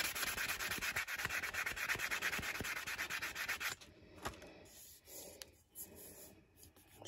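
Hand sanding of cured epoxy on a wine glass makes a close, rapid back-and-forth scratching rub for a few seconds, then gives way to quieter, sparse handling noises.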